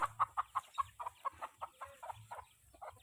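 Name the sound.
hen clucking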